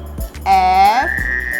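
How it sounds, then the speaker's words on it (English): A single loud frog croak sounds close up, one drawn-out harmonic call lasting about half a second before a higher tone follows. "This is a frog."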